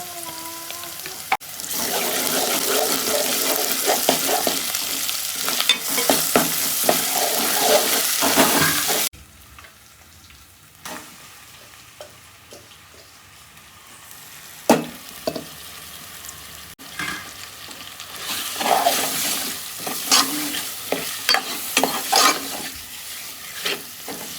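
Mutton curry being stirred in a hot pan after turmeric and ginger go in, a steady loud sizzle with scraping strokes that drops to a quieter simmer partway through, with occasional clinks and stirs.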